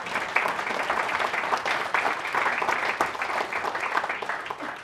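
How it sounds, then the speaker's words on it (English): Audience applause after a lecture on the Meskwaki Nation and the Mines of Spain, a dense, steady wash of many hands clapping that runs for about five seconds at even loudness with no voice over it. "Let's have a round of applause for that."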